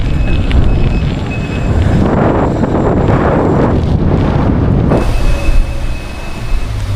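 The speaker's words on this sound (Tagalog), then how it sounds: "Lakas pa rin ang hangin." Strong wind roars and buffets the microphone in loud, rumbling gusts, easing slightly near the end.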